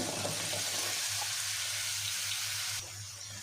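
Three onions fry in oil in a pan with a steady, close, hissing sizzle that holds evenly before dropping slightly quieter near the end, with no talking.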